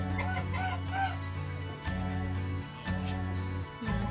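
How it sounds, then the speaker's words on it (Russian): Loud, close honking calls from a goose in its farm enclosure, harsh nasal notes repeated over a few seconds with brief pauses between them. "Гусь ходит."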